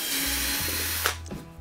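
A power drill whirs steadily as it pre-drills holes in wooden boards for a cajon drum. The motor pitch shifts partway through before the drill winds down with a few clicks, close and alone.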